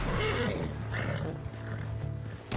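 A horse in a video game lets out a loud, drawn-out whinny over a dense, noisy game soundscape, with no talking.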